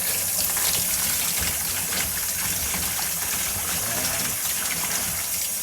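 Steady, loud running water pours over fish being washed for sinigang, a continuous splashing gush with no break throughout.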